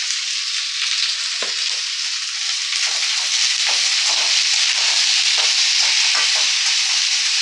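Ivy gourd (kundru) with salt and turmeric sautéing in a hot pan, a loud, continuous close-up hiss and sizzle with faint stirring scrapes and no talk.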